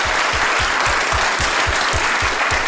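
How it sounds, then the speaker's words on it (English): A live audience gives Dan Jackson a sustained round of applause at a show in Berkeley, California, the clapping loud and dense with a steady rhythmic pulse running beneath it. "Let's give Dan Jackson a round of applause."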